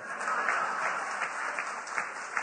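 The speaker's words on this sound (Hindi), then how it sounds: "सब इधर ताली लगा रहे हैं" A studio audience claps steadily through a televised interview, a dense, even wash of applause with no pause.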